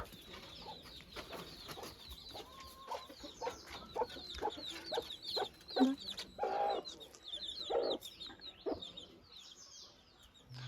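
Several chickens cluck in short bursts nearby, mixed with other bird calls in an outdoor yard.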